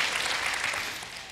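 A church congregation claps for the Lord during a sermon, a steady dense patter of many hands filling the room, moderately loud and fading slightly toward the end.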